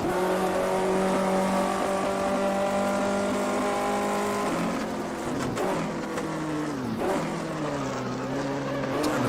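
A Maserati Formula 1 car in a 1958 F1 racing game, driven at Silverstone, gives a loud, close engine drone. Its pitch holds steady, then sags and wavers as the throttle is eased through a power slide, with tire squeal mixed in.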